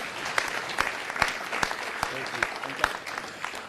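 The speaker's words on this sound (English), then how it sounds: "Nice round of applause." Applause from the audience at a city council meeting, a steady mid-level clatter of many hands with sharper individual claps standing out, lasting a few seconds in a reverberant chamber.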